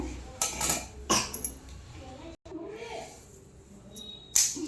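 Produce is washed in a metal vessel, with intermittent clinks and knocks of contents against the pot between quieter stretches, heard close.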